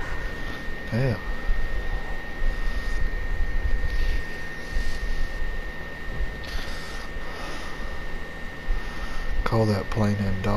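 Airplane engine in the Far Cry 5 video game: a continuous droning hum with a steady tone runs throughout, with speech over it at the start and near the end.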